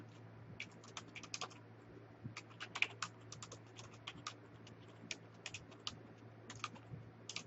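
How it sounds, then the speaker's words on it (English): Keys clatter on a Commodore 64 computer keyboard in quick, irregular bursts of crisp clicks, fairly faint and close, with a low steady hum underneath. "Commodore keyboard, gotta love it."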